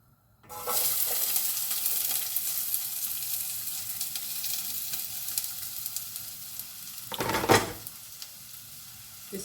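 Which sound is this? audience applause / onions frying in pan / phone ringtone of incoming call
onions frying in pan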